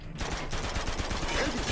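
Rapid bursts of gunfire in the video game Uncharted 2 crackle continuously, dense and loud, with a speaking voice mixed underneath.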